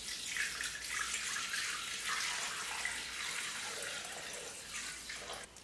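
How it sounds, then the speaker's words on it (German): Water poured steadily into a Thermomix TM5/TM6 mixing bowl for bread dough, a continuous close splashing stream with no talk. "Für das Brot gebe ich jetzt 450 Gramm Wasser in den Mixtopf."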